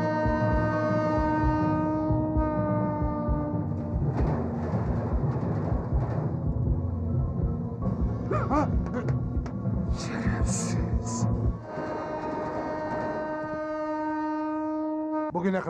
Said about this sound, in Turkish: Koşun treni durdurun.